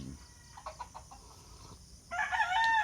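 Roosters call in the background on a farm, short bursts of clucking followed by a louder drawn-out crow near the end, over a faint steady hum.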